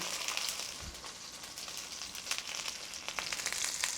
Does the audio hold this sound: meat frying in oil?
yes